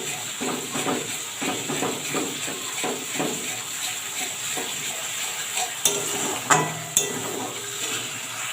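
Ground ginger, cumin and coriander paste sizzling in a pan for a Bengali vegetarian dish, a steady low hiss with scraping stirs throughout and a few sharp clinks of a utensil near the end.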